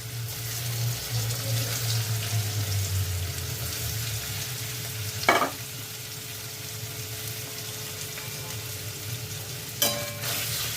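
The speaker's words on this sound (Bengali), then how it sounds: "দেখছো এটাকে একটুখানি আমি ভেজে নিচ্ছি" Food frying in white refined oil, a steady broadband sizzle running the whole time, with a low hum early on and two brief sharp clatters along the way, no talking.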